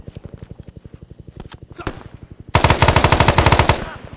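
A Browning Automatic Rifle fires in a Vietnam War video game: a rapid, rhythmic burst of shots, then a louder, closer sustained burst, with players talking faintly over it.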